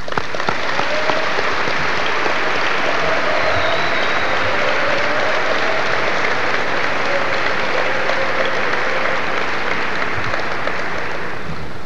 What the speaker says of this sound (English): this body of young people applaud the people that have supported them